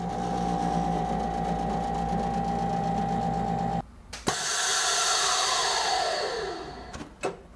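Vevor chamber vacuum sealer running its pump, a steady loud motor drone with a hum that cuts off abruptly, followed by a sharp click, a hissing rush of air and another click near the end.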